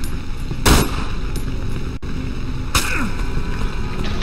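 Gunfire from a floating enemy in the horror game Cry of Fear: two sharp, loud bursts about two seconds apart over a steady background hum, with no talking.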